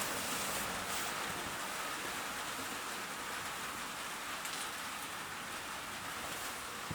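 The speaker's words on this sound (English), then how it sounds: "It's still out in the rain." Steady rain falls outside a workshop where an XS650 motorcycle is being worked on, a dense continuous hiss of drops on surfaces holding at an even level throughout with no talking.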